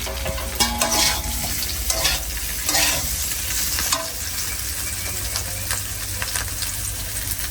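Cauliflower fries in hot oil with ginger and panch phoron, a loud continuous sizzle broken by several sharp scraping stirs of a spatula against the pan, close and with no talking.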